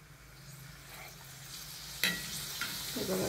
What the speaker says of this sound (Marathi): तर आता मी तुम्हाला पापड तळून दाखवते.